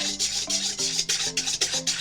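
A whisk scrapes rhythmically against a bowl while oil is added to a salad dressing, about eight close, steady strokes with no talking.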